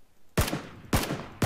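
Gunfire in PUBG comes as three loud, separate shots with a short gap between each, every one cracking sharply and trailing into a brief echo.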